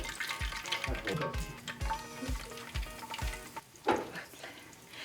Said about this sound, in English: Get your chicken frying.